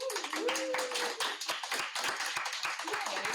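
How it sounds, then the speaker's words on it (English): Audience applause after a therapy talk-show panel with a large group, dense continuous clapping filling the room at steady loudness throughout, with a faint voice briefly audible near the start. "a hand of applause to everyone"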